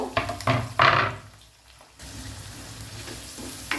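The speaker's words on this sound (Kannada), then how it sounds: "ಮೀಡಿಯಮ್ ಫ್ಲೇಮಲ್ಲಿ ನಾನು ಫ್ರೈ ಮಾಡ್ತಾಯಿದ್ದೇನೆ" Long-sliced onions frying in coconut oil over a medium flame, with a burst of scraping and sizzling at first, then a steady, quieter frying hiss, and one more scrape at the very end.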